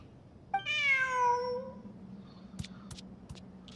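A cat meows in the Genshin Impact Sumeru event, one long drawn-out call that falls in pitch, near and clear, followed by a few soft clicks over a low game-music hum.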